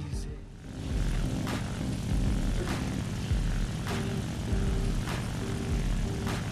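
Propeller engine of a Breda Ba 65 fighter plane in the War Thunder video game, a steady droning hum that holds loud and continuous after a brief dip at the start, with faint voices now and then.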